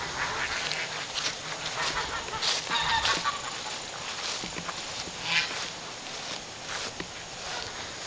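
Geese with knobbed bills honk repeatedly on a farm, nearby and fairly loud, in irregular overlapping calls over a constant outdoor background with some shuffling steps.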